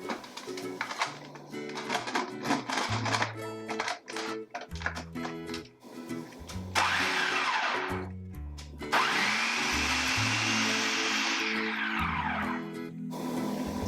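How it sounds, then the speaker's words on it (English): Food processor pulsing cheese cracker ingredients, with a pinch of cayenne, in short whirring bursts that build into two longer, louder sustained runs of grinding. "Next, we're going to pulse these all together until they're nice and combined."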